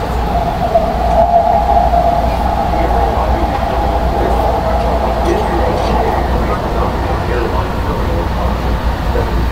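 A steady low rumble of an airport train carrying riders toward Terminal 4 fills the whole stretch, with constant rolling noise and faint cabin hum throughout.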